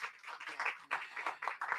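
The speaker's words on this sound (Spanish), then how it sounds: "Un aplauso para Brilles Collazo" Audience at a Spanish-language poetry book presentation clapping in short irregular bursts, fairly quiet and close, with brief pauses between swells.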